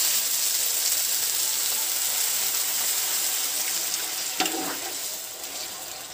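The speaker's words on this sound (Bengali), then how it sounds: "গ্রেভির জন্য পরিমাণ বুঝে জলটা দিয়ে দিতে" Water is poured into a sizzling egg curry gravy in a pan, a steady hissing and bubbling rush that continues throughout with a brief splashy burst near the end.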